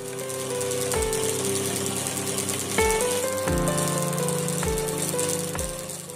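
A custom home-made Stirling engine runs with a steady mechanical hum and whirr, punctuated by a sharp knock roughly every second, close and moderately loud with no talking.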